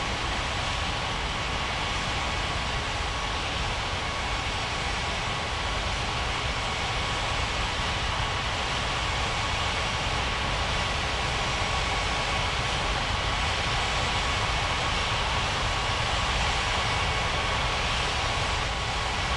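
Airplane taking off from a runway at an airport in a video game, a steady loud broadband roar of jet engine noise that persists evenly throughout without pauses.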